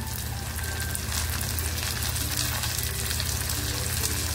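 Chopped tomato dropped into a pan of browning onions for an egg masala, giving a steady, close, loud sizzle and frying hiss that runs throughout with faint stirring and no talk.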